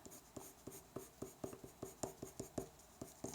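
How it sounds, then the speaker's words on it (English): Green pencil stroking across paper in an art lesson, a quiet, regular scratching rhythm of about a dozen short strokes with no voices. "I'm stroking this pencil across the paper."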